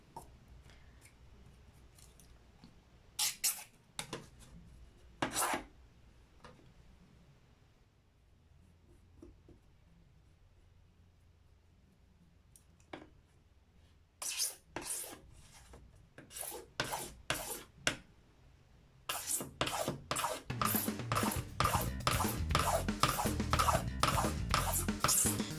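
Scissor blades scratching an acrylic plate for drypoint engraving, giving dry rasping strokes that come in sparse bursts at first, then turn into rapid, loud, repeated scraping near the end, close up with no talk.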